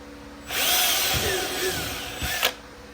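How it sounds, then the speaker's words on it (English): A power drill with a 1/4-inch bit whirs steadily for about two seconds, drilling small holes in a golf cart, with a short second burst near the end, close and fairly loud. "Drill 2 tiny little holes"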